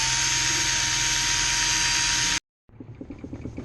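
A power polisher works an aluminum radiator with a loud, steady high-pitched whine that cuts off abruptly, then after a short silence resumes with a rougher, pulsing drone as the pad presses against the metal.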